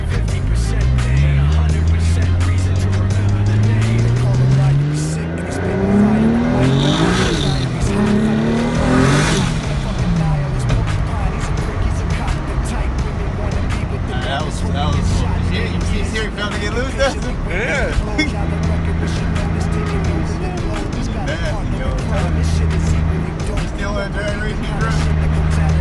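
A turbocharged 2JZ Lexus SC300 running on E85 revs up and down through a long pull, with rising and falling engine tones, turbo whine and blow-off valve hiss, while people talk over it.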